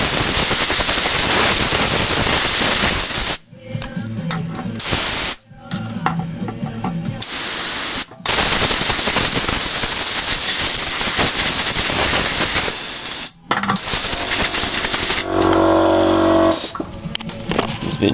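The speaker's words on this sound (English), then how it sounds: "just get your air compressor" Loud, hissing bursts of an air compressor nozzle blowing out a Briggs & Stratton small-engine carburetor in a garage, several long blasts separated by brief pauses, harsh and close.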